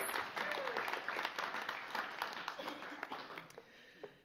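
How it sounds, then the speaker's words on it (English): Applause from the audience at a guide dog school graduation, honoring new guide dog teams and canine buddy partnerships; steady, dense clapping through the clip, fading slightly toward the end, with some voices mixed in. "Yes, a round of applause."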